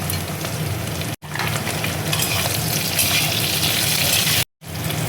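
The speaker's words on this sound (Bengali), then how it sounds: "এবার দেখো পেঁয়াজ কুচি দিয়ে দিচ্ছি।" Chopped onion fries in ghee in a pan for bitter gourd bharta, giving a loud continuous sizzle and crackle up close, broken by two brief silent cuts.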